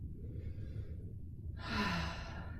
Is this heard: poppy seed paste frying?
no